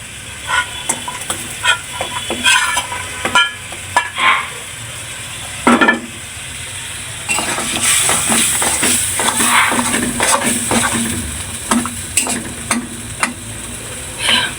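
Bori lentil dumplings frying and being stirred in a pan: a steady close sizzle under repeated scraping strokes and occasional clanks of the spatula against the metal, continuous throughout with louder stirring bursts.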